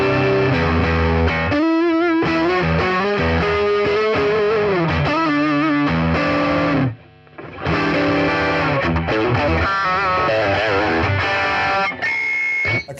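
Electric guitar played through a Zoom G3Xn multi-effects unit on the Rob Chapman boost distortion setting produces loud, saturated riffs and sustained bends, stopping briefly before continuing.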